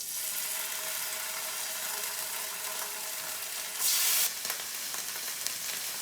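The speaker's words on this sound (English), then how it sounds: "we can sear the pork now. It has to be high heat" Pork sizzles steadily in a very hot, smoking pan, a loud continuous frying hiss with a brief sharper burst of spitting midway.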